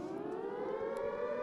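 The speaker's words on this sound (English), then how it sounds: "रात जंग के लिए emergency siren बजा." A civil defense style emergency siren wails steadily, its rising tone holding loud and continuous with no voices over it.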